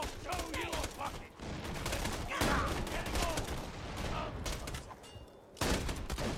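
Dense bursts of gunfire in the co-op shooter game Borderlands 2, rapid overlapping shots filling the scene with brief dips, while players talk over the shooting.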